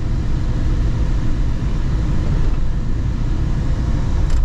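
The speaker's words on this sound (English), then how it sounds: "Blower motor super strong in this thing." A strong blower motor runs in a 1995 Ford Bronco XLT with the AC on low, a loud steady broadband whoosh and low hum inside the cabin, constant throughout with no talk.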